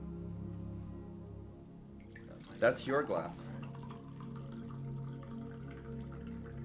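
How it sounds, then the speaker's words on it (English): Water is poured into a glass in a quiet room, a short splashing burst of about a second, preceded and followed by faint voices. "We can do like some ASMR here with pouring water."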